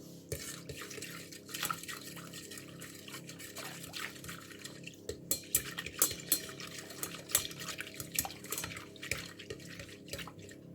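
Warm water being stirred for homemade crumpet batter, a steady liquid swish with scattered small clinks and drips from the bowl, close and moderately loud with no talking.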